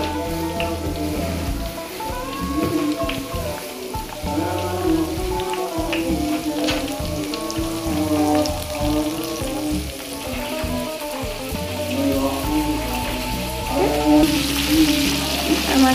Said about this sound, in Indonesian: kita masukkan ke dalam minyak sudah panas